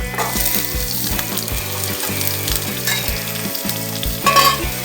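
Snake gourd sautés in a hot pan, a loud, continuous crackling sizzle heard close up, with no talking.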